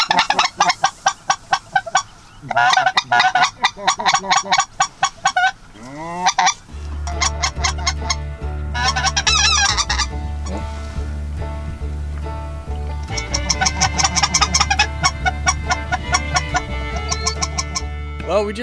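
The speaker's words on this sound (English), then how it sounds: "Seen a few specklebellies, a lot of snow geese in the area." Snow geese and specklebelly geese honk in dense, rapid bursts near a hunting area, overlapping calls rising and falling, with a low steady rumble underneath through the second half.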